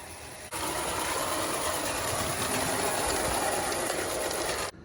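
A 1920s Bassett-Lowke live steam model locomotive rumbles steadily along its track, a continuous clattering mechanical roar that starts abruptly and holds at even loudness before cutting off.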